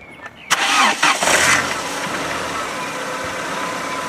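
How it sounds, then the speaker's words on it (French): A car engine cranks briefly and catches after a battery replacement, then settles into a steady idle, close and clear. "Donc là on va essayer de démarrer la voiture."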